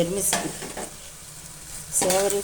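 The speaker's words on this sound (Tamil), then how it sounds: "இது வந்து வறுக்காத சேமியா, அதனால் நம்ம இதை இப்படியே வறுத்துக்கலாம்" Dry vermicelli (semiya) fries and is stirred in hot oil in a pan for a semiya kichadi with onion and tomato, giving a steady close sizzle with bursts of scraping stirring at the start and end.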